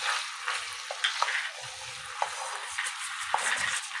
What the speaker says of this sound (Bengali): দেখুন তেল ছেড়ে এসছে মাংস দিয়ে। এমন করে 45 মিনিট কষিয়ে নেবো।